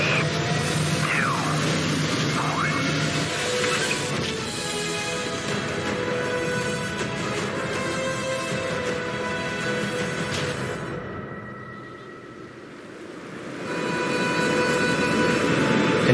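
Spaceship lifting off in a ground jump in the video game Starfield, a loud sustained engine roar and rumble with tonal whine that dips briefly, then swells again.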